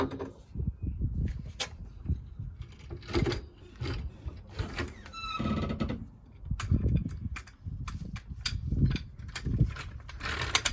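A torque wrench tightens the drive shaft bolt on a VW Transporter T4 during outer CV joint replacement, giving repeated ratcheting clicks and metallic mechanism sounds in close, irregular bursts.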